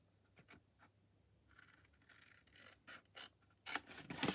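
Scissors cut card stock along score lines in quiet, close snips and scrapes, with the cuts getting louder and more frequent toward the end.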